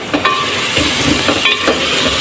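Rajma masala paste of spices frying in oil, giving a loud, close, steady sizzle and hiss with faint bubbling and a few soft stirring knocks, no speech.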